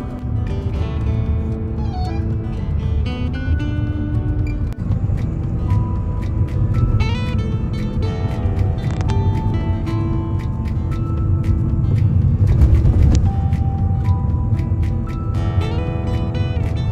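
Steady low road rumble inside a car cruising on a four-lane highway during a road trip, constant and close throughout, with occasional thin ticks and tonal whines riding over the droning cabin noise.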